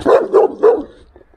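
A male Saint Bernard mix dog gives three loud, close barks in quick succession, followed by a softer trailing sound.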